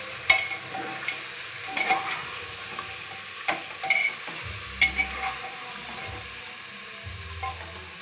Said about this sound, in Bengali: পেস্ট করা মশলাটা দিয়ে দিয়েছি, একটু পেঁয়াজটা দিয়ে নাড়িয়ে এটা ভালো করে নাড়িয়ে দেবো।